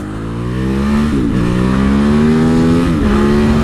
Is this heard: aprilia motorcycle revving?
yes